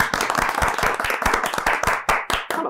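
One person clapping alone on a comedy quiz game show set, a steady run of sharp, close hand claps spaced about a fifth of a second apart across the whole stretch.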